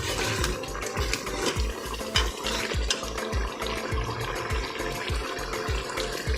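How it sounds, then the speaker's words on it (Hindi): Mutton and potatoes frying and being stirred in a pot on high flame, a steady sizzle with repeated low scraping and knocking from the spoon against the pot throughout. "हाई फ्लेम पर 5 से 10 मिनट तक हमें इसकी भुनाई करनी है।"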